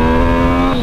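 A Yamaha MT-09 motorcycle fitted with a new, quiet aftermarket exhaust holds a loud, steady engine drone for under a second, with a slight rise in pitch at the very end.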